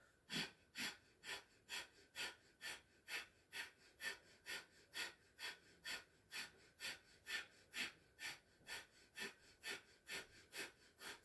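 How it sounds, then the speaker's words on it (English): Breath of fire yoga breathing, a fast, even run of about two dozen sharp nasal exhalations, roughly two per second, close and quiet with no talking. "still doing breath of fire"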